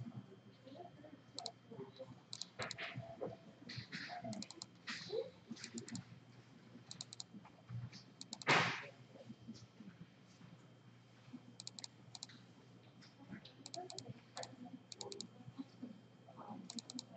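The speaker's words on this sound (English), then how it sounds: "I'm going to click on the button over here that says loader" Computer mouse and keyboard clicks while working in compositing software, scattered quick clicks in irregular bursts, fairly close and quiet, with one louder knock in the middle.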